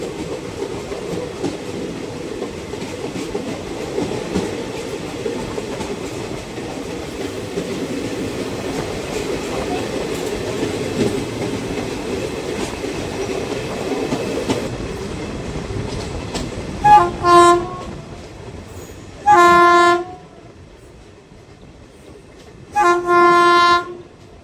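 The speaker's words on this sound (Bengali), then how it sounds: "মালগাড়ি দেখা যাচ্ছে" A goods train hauled by a WDG-4G diesel locomotive rumbles past with continuous rolling clatter, then three loud horn blasts sound near the end.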